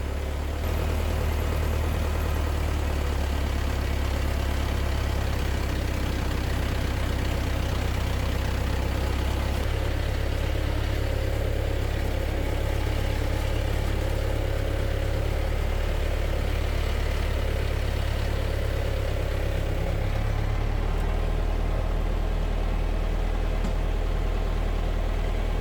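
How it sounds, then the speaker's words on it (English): A skid steer loader engine idles steadily on a Russian farm, a constant low mechanical rumble with a slight shift in tone partway through, heard alone at close range. "skid steer with loader."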